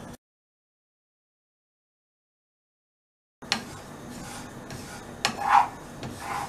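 After a stretch of silence, a spoon stirs sesame seeds (til) roasting in a pan, making soft continuous rubbing and raspy scraping with a few sharper clinks against the pan.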